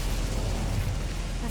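A fire-casting spell from Hogwarts Legacy roars as a steady, dense whoosh of flame with low rumbling, holding evenly at close range for its short span.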